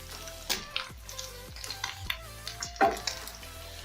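Pieces of meat fry and brown in hot oil in a pot while cooking pilau, with a steady sizzle broken by repeated clinks and scrapes as the pieces are stirred and turned.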